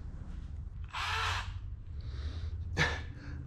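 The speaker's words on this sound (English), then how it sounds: "I think with my right angle drill on this from this vantage point should be just fine" A right angle drill works on a RANS S-21 aircraft fuselage build, giving a short whirring burst followed by a fainter spin and a brief sharp buzz, close and alone.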